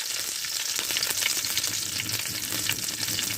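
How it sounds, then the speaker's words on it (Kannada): Dried fish frying in a pan with neem leaves, giving a steady, dense sizzle that stays loud and close throughout with light crackles and no voices. "ಇನ್ನು ಸ್ವಲ್ಪ ಅದು ಫ್ರೈ ಆಗಬೇಕು"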